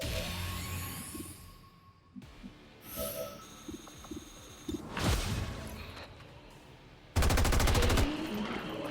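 Gunfire in the XCOM 2 video game: scattered sharp shots and impacts amid game effects, ending in a loud sustained burst of rapid automatic fire.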